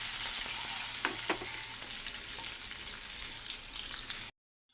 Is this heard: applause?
no